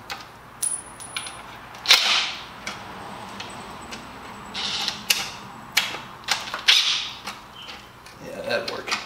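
Sawhorse leg fasteners on a knock-down pallet-wood build are worked loose, giving a run of sharp clicks, taps and metallic ticks at close range, spaced irregularly.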